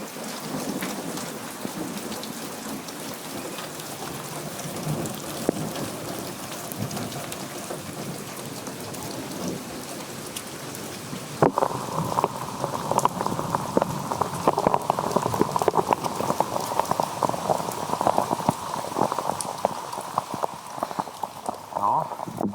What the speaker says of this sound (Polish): Dzisiaj ulewa jest wręcz katastrofalna.